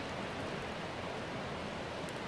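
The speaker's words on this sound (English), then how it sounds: "It's been raining here for about a week," Steady broadband rain hiss fills the whole stretch, dense and even with no pauses, like a soaking downpour close by, after a week of rain along the Coquihalla river.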